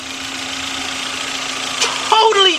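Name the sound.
Volkswagen Beetle engine running after head gasket repair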